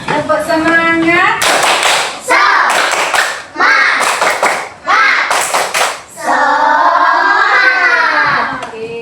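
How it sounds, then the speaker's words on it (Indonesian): Children in a classroom perform a rhythmic spirit clap, bursts of group clapping alternating with loud chanted voices in a steady call-and-response pattern, close and energetic. "Kita tepuk semangat dulu lagi sekali yuk"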